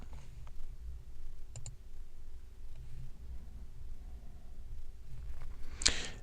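Soft computer mouse clicks on software documentation links, a few faint isolated clicks spread over a quiet, hissy background, with a brighter click near the end.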